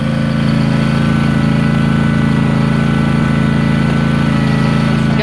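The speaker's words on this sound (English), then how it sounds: "driving the tractor for the first time." A tractor engine runs loud and close while being driven, a steady throbbing drone with constant low rumble and vibration throughout, no voices over it.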